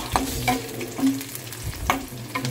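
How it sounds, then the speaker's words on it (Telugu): Onion and green chilli frying in oil with cumin, cinnamon and cardamom, a soft close sizzle punctuated by a few sharp clinks and scrapes of a spoon stirring the pan. "నూనె వేసిన తర్వాత ఉల్లిగడ్డ పచ్చిమిర్చి ఫ్రై చేస్తున్నా"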